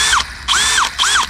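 A Bosch GSB 185-LI cordless hammer drill is triggered three times in quick succession. Each loud, close burst whirs up and winds back down, with no talk over it.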